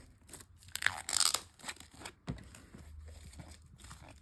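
Plastic film being torn and peeled off a 4K steelbook case, a cluster of close crinkling, tearing bursts in the first seconds, then quieter handling rustle.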